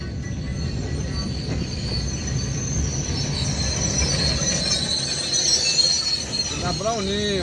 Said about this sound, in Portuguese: Trabalhando, trator.